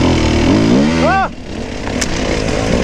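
An enduro dirt bike on hard rocky terrain revs loudly up close, the engine note climbing in pitch then dropping off as the throttle closes, leaving a rougher idle rumble.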